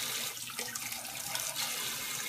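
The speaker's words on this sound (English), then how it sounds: "now what I'm doing is just gonna use regular sink water." Regular tap water running from a sink faucet to fill a betta fish tank, a steady, moderately quiet rushing splash heard alone throughout.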